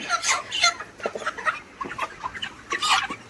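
Broiler chickens cluck and squawk close by in a busy, overlapping chorus of short calls from several birds, loud and constant throughout.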